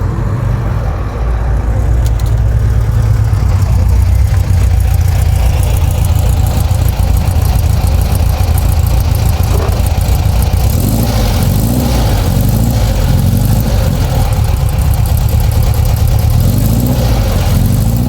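A car engine running after a push start, loud and close, a continuous rough low rumble with uneven throbbing and occasional revving swells throughout.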